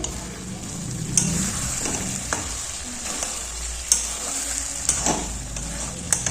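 Chicken curry with potatoes frying in oil in a wok, giving a steady close sizzle with occasional sharp clinks and scrapes from stirring, no voices.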